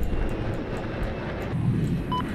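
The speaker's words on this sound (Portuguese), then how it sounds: "Avisei um avião inimigo." An enemy airplane drones overhead in a video game, a continuous low engine rumble that holds steady and fairly loud for the short stretch.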